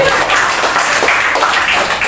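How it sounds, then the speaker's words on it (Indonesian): Steady applause from an audience at a parenting seminar, dense overlapping claps sustained at an even, fairly loud level throughout, with no voices on top. "Bagian tepuk tangan dulu buat semuanya"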